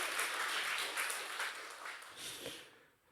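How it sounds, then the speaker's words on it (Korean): Church congregation applauding during a Korean thanksgiving service, a dense wash of many hands clapping steadily at moderate distance, thinning out and fading near the end. "우리 하나님께 박수로 영광 올려드리도록 하겠습니다"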